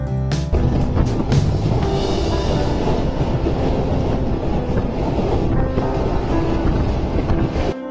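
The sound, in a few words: strong wind blowing on the camera microphone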